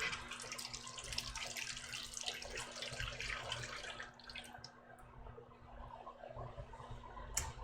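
Hot water pours steadily into a cooking pot in a home kitchen, a continuous close splashing stream that softens and thins toward the end, with no talking.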